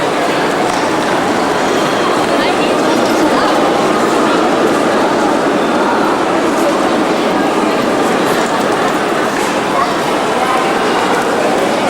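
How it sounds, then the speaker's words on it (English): Electric trains pass in a station in Zurich, Switzerland, giving a steady, broad rushing rumble that fills the whole stretch without a break. "Most all the trains are electric here"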